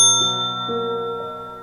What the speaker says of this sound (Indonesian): Bunyi lonceng tua di atas pintu berdenting pelan